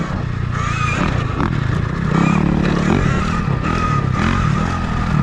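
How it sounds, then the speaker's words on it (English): Honda CRF 450R dirt bike engine revving continuously and loud at close range, a rough droning roar with rising and falling pitch, mixed with scraping and clattering from the ride. "Will's on a CRF 450R."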